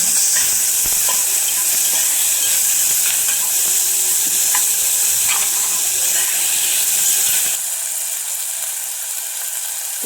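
Onion and tomato fry in a hot pan with garlic paste for masale bhat, a loud, steady hissing sizzle with occasional stirring scrapes, easing slightly toward the end.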